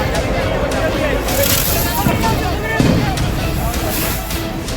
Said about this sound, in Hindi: इसमें हाथ में जैसे कोई फल हो, ऐसा इंगोरिया नाम का पटाखा एक दूसरे पर फेंका जाता है